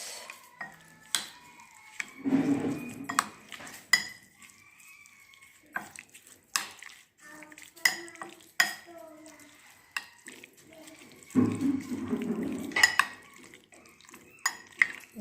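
Vegetable biryani ingredients, including ginger paste and half a cup of oil, are mixed in a pot. Intermittent metallic clinks and scrapes of a spoon against the pot come in short bursts, with quiet gaps between them.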